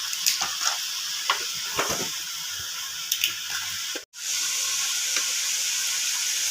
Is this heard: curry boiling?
yes